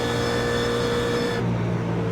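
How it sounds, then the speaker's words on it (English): A GT race car engine in a racing simulator game at Spa-Francorchamps, a steady, loud, flat drone at full throttle down a straight that eases slightly near the end as the driver lifts off to save fuel. "Car definitely sounds very flat."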